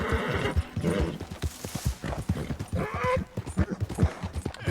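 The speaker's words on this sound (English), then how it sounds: "My horse flipping out." A horse in the video game Red Dead Redemption 2 neighs and whinnies while its hooves clop in a quick, uneven rhythm. The sounds are close and moderately loud, with brief game noise around them.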